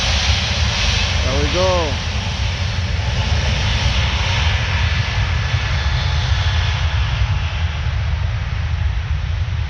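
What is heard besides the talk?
Wizz Air Airbus A321 jet taking off at Paris Orly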